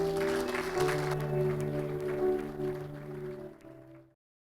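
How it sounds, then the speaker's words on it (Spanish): A church congregation applauds during worship over sustained keyboard chords. The clapping is moderately loud at first, then thins and fades as the music ends abruptly. "Denle un fuerte aplauso al Señor."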